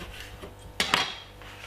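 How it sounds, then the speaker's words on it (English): A short crisp cut through a lime, two quick close knocks of a knife against a board amid quiet kitchen background. "one lime, and cut it half"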